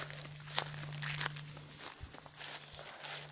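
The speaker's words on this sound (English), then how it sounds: "if all you hear are footsteps, there's a lot of dry leaves and stuff here." Footsteps crunch and crackle over dry leaves while someone climbs a steep hill near a dam, with irregular rustling steps close by and no talking.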